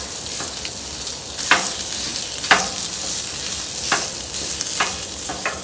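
Mild Italian sausage sizzles steadily on a Blackstone griddle, with a spatula scraping and stirring in several distinct strokes over the constant frying hiss.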